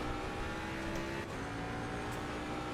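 A race car engine in Assetto Corsa Competizione drones steadily at high revs on track, a dense continuous roar with a brief dip partway through.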